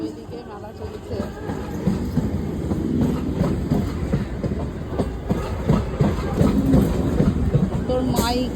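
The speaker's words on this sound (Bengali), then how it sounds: "ট্রেন এসে গেছে" A passenger train pulls into a station beside a fair, its wheels clattering and rumbling loudly and steadily for several seconds, with crowd voices mixed underneath.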